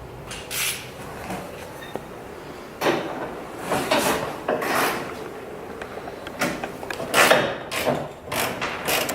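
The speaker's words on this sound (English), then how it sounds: "I'm bolting on my lower control arm." Ratcheting and metallic clanks while bolting a lower control arm onto a Nissan S13 240SX during a Wisefab suspension install, coming in irregular bursts of wrench clicks and knocks, close and moderately loud, with no talking.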